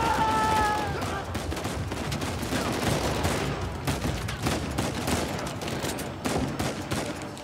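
Rapid gunfire in the video game Uncharted 4, a dense, continuous burst of loud shots and impacts filling the whole stretch, with game voices mixed in.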